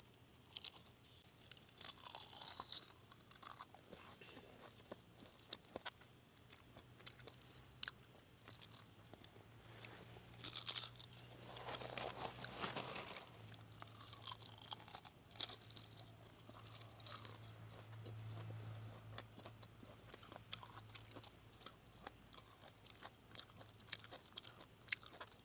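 Crunchy rice paper being bitten and chewed up close at a forest campsite, with crisp crackling bursts scattered throughout and a low steady hum underneath.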